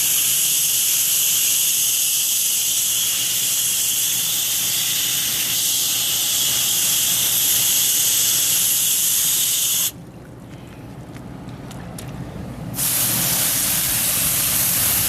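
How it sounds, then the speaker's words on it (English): A water hose sprays down the coil of a PTAC unit, giving a loud, steady close-up hiss that cuts out briefly near the end and then resumes. No voices are heard. "all you want to do is just sit there and hose it down"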